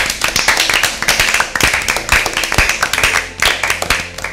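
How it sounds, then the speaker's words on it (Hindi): Two quiz teams clap for themselves at a Bible quiz event, a loud, close round of applause from several people that stays dense and steady for the whole stretch. "दोनों टीमें अपने लिए भरपूर तालियां बजाएं"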